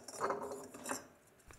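Unfired bone-dry stoneware clay pots knock together in two dull, close clinks followed by a faint light tap, with no speech.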